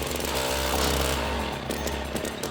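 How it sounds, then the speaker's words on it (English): An ice fishing auger engine on a frozen lake sputters and runs roughly, a loud, uneven close-up drone that surges and falters throughout, with no talking. "And then the auger begins acting up."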